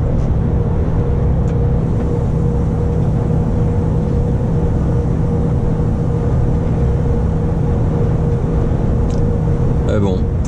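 A vehicle overtakes on a road in Haute-Savoie amid a steady, close engine and road drone with a low hum, unchanging throughout, with a brief faint rattle at the end.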